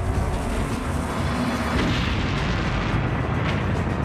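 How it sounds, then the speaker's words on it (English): Mines detonating beneath fortress walls during the siege of Kazan, with a dense, continuous roar of booming blasts at a steady, heavy level throughout, with no voices. "The force of the explosion stops the battle in its tracks."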